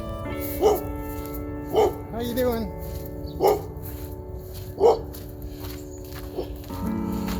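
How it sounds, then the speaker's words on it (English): A dog barks in short, spaced woofs, about five or six barks at a moderate distance, with a person talking briefly and a whine between. "there's a dog"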